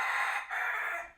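A young rooster named Strawberry, hatched at a zoo, gives a single short, close crow in two quick rising parts, loud and clear with no talking over it.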